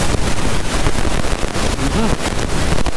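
Heavy rain pours down in Manila traffic, recorded from a motorcycle, a loud, continuous broadband rush with wind buffeting the microphone, staying dense throughout with slight surges.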